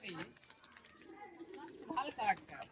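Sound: giribaz pigeons cooing

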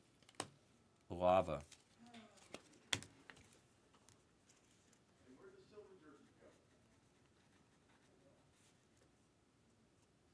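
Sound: typing a note on a computer keyboard

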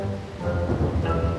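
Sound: heavy rain with thunder

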